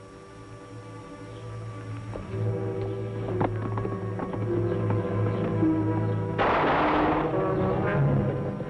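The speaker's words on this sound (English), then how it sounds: "Those were shots." Gunshots ring out in an old Western ranch scene over background music, sharp cracks landing across the middle of the clip, with a louder burst near the end; no talk is heard.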